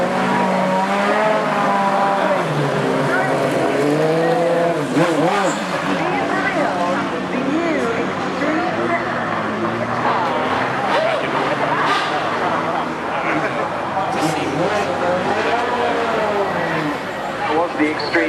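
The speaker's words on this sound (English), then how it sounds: "The Extreme E car there on the circuit, having its first demonstration run" An Extreme E electric off-road race car whines and revs continuously on a circuit demonstration run at Goodwood Festival of Speed 2019, rising and falling in pitch as it speeds past, with faint tire noise and voices mixed underneath.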